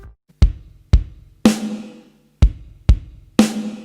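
A drum kit plays a groove: two quick bass drum thumps followed by a ringing snare hit, repeated twice at a slow, even tempo, loud and close.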